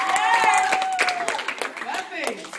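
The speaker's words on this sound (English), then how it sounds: "feel free to get some energy and clap your, put your hands together" Audience clapping at a martial arts team demonstration, a quick patter of hands mixed with excited shouts, whoops and a whistle-like cheer, fairly close and lively throughout.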